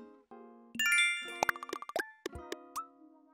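Nook Miles claim jingle from Animal Crossing: New Horizons, a bright chiming melody of plinks and dings rising in quick notes after a soft plopping start, clear and alone with no talk.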